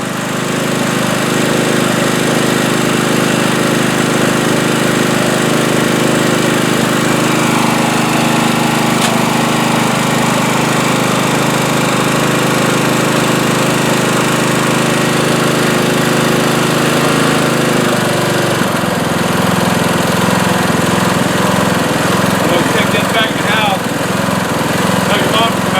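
A $50 Craftsman riding lawn mower's engine runs loud and steady close by, holding a continuous drone with a slight pitch shift late on.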